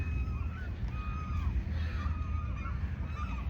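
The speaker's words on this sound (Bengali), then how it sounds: "জল কবুতর, সিগালের আওয়াজ পাওয়া যাচ্ছে।" Seagulls and pigeons call at a Vancouver fishing harbour on the Pacific in late afternoon, with several moderately loud, drawn-out cries repeating over a steady low rumble of wind and water and no talking.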